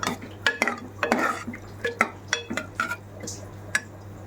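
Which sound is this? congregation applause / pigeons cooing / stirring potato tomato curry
stirring potato tomato curry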